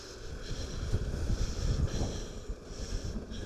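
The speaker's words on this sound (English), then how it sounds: "The last 20 kilometers, the storm went worse and worse." Storm wind of more than 100 km/h on the road toward Torres del Paine, a loud gusting roar with rumbling buffets against the microphone, steady throughout and with no talk.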